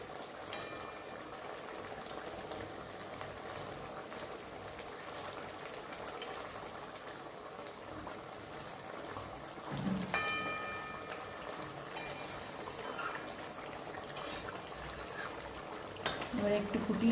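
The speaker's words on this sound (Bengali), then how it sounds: "এবার ঝোলটা দেখো ফুটে গেছে" Chital fish curry gravy with mustard oil bubbles at a steady boil in a pan, a dense, continuous watery seething with a few sharper clinks and pops, while a voice talks over it.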